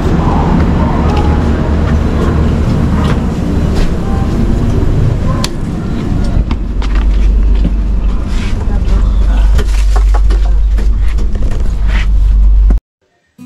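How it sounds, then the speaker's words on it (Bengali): A passenger train pulls in at a station platform before dawn, its loud, steady low rumble filling the scene with scattered clanks and bumps before the sound cuts off abruptly near the end. "ট্রেন চলে এসছে প্ল্যাটফর্মে, এবার আমি ট্রেনে উঠে যাব"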